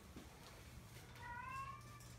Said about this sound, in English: She was meowing too.